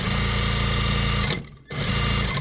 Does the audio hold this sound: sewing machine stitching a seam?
yes